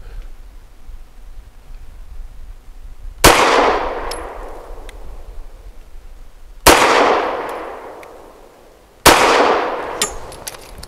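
Three loud, sharp shots from a Ranger Arms RA9 pistol, spaced several seconds apart, each with a ringing, decaying echo outdoors.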